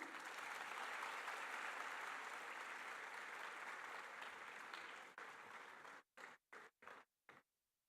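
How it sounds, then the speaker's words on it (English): Audience at a university ceremony applauds in a dense, loud, sustained burst of many hands that tapers off, ending in a few separate, isolated claps before silence. "Round of applause, please, all of you"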